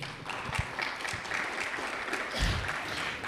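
At a city district bond meeting, an audience in a room gives a round of applause for the staff, a soft, fairly distant patter of clapping that swells slightly near the end, with low murmurs and thumps underneath.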